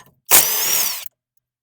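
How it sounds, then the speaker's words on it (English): A pneumatic impact wrench spins an 18 mm strut nut off a Toyota Camry front strut, one loud, close, steady whirring burst lasting under a second with no talk. "this 18 millimeter nut came out really easy with the impact wrench"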